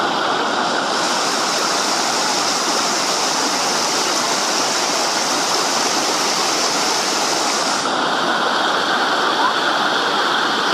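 The second waterfall of Santa Isabel roars in a loud, dense, unbroken rush of falling water, heard up close and filling the whole stretch with constant spray-like noise.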